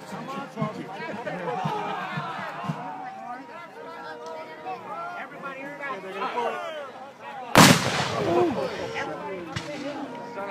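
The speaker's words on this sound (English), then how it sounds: "They're going to come through here and they're going to shoot." A single loud boom of gunfire or artillery at a Civil War reenactment in Huntington Beach cuts through steady crowd chatter and nearby talking, roughly two-thirds of the way in.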